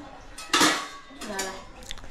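Pots and dishes clatter and clink during dishwashing, with a loud metallic clang near the start followed by softer knocks and scrapes, close by.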